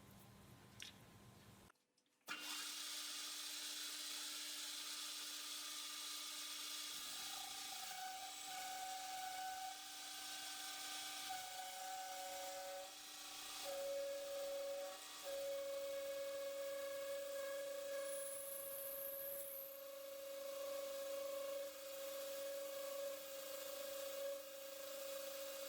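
A metal lathe parting off a workpiece in a home shop: a sustained grinding, rasping cut with a whining tonal squeal that shifts pitch, steady and close, without talk.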